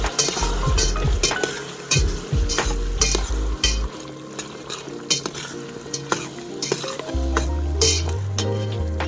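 Food sizzles in a hot pan while a utensil scrapes and clinks against it in irregular stirring strokes, close and clear.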